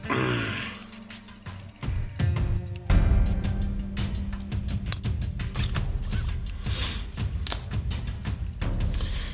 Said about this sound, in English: You can see we can unscrew the reservoir.